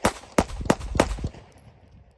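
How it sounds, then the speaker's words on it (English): Glock 19 Gen 5 pistol fired six times in rapid succession, sharp loud cracks evenly spaced over about a second and a quarter, then a fading ringing tail. "now we're going to see how we shoot in 6 shots, rapid succession"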